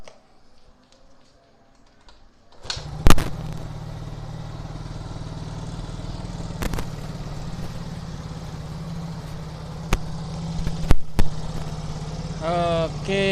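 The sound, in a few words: engine started and idling during manual ISC sensor reset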